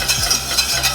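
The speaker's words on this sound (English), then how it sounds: "In the nice warm saucepan, we're going to put 30 grams of butter in" Thirty grams of butter softening in a warm saucepan for mac and cheese, giving a soft, steady sizzle with light scraping and stirring noises and occasional faint clinks of a utensil against the pan.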